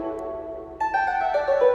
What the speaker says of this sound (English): And if I isolate the lyre, it sounds like this